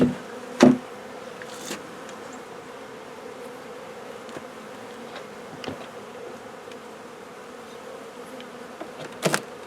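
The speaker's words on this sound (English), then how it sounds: "Oh yeah, we got bees." Steady buzzing of many bees fills the air, with a few sharp taps and knocks breaking through now and then.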